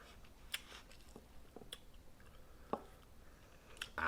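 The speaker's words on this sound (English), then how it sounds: "crunching." Close, quiet crunching and chewing of peach cobbler with a crisp flour, brown sugar and butter topping, scattered soft bites and squishy chews alone without talk.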